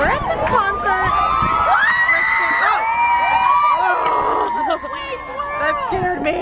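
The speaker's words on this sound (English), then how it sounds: "So we're at some concert thing. All the crowd is here." Loud concert crowd cheering and shrieking with high excited voices, a dense continuous roar of whoops and shouts from many people close around, sustained throughout with a brief dip near the end.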